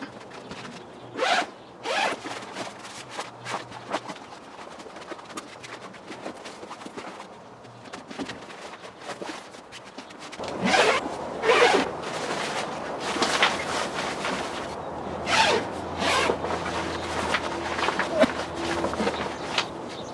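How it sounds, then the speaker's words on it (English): Zippers on a Sylvan Go camper tent are repeatedly opened and closed, producing a series of quick, rasping zips at varying lengths, close and fairly loud, with some handling and rustling noises between pulls. "I'm just demonstrating all the zippers and how they're in great shape"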